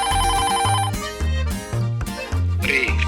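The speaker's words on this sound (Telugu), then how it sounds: "మీను ఏంట్రా ఫోన్ లిఫ్ట్ చేయట్లేదు?" A phone ringtone plays loudly and continuously, a bright repeating electronic melody with a steady beat, heard up close with no talk over it.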